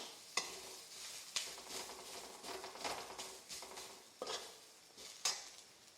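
Onion roasting slowly in a wok for a garlic-onion masala, a soft continuous sizzle broken by occasional sharp spatula scrapes and taps against the pan, with no voices.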